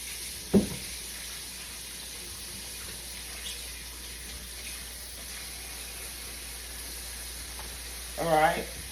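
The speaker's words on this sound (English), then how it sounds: "Those chops are cooking." Chops fry in a pan with a steady, even sizzle under a faint background hiss, constant throughout, with a brief clatter near the start and a short voice near the end.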